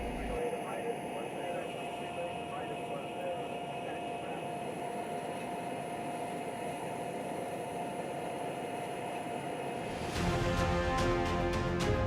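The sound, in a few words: RQ-4 unmanned drone aircraft taxiing toward runway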